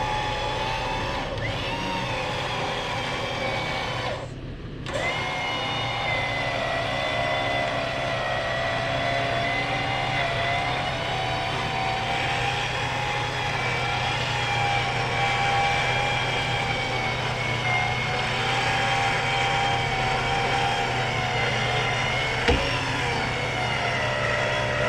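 A Toyota FJ Cruiser engine runs steadily on an off-road trail in American Fork Canyon, Utah, a continuous low drone with faint variations and no talk.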